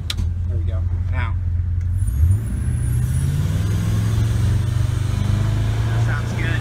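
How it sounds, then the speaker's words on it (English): A 2005 Baja 242 Islander powerboat accelerates on open water with its exhaust open, the engine roaring loud and close, rising in pitch as it takes off, with voices talking over it early on. "I want to take off again with the exhaust open so you can kind of hear that."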